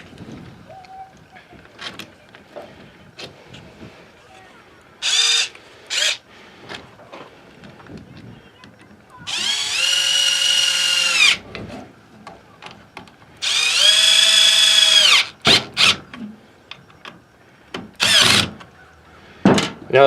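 Screwing down the carburetor on an Echo string trimmer with a power driver: several short close bursts of driver whirring, with two longer runs, separated by small clicks and handling knocks.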